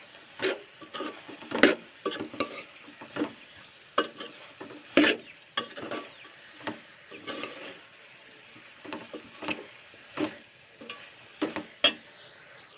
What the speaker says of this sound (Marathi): परतून घेते परत त्याला